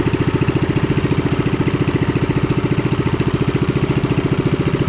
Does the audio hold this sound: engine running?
yes